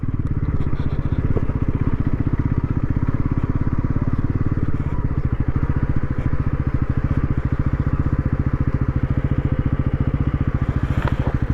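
A motorcycle engine idles close by, a steady, loud, rapid putter that runs unbroken throughout.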